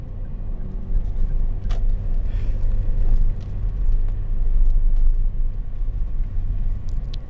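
A car overtakes a tanker truck on the Stabat–Binjai road, with steady loud engine and road rumble under continuous traffic noise and a few brief brake or horn-like accents.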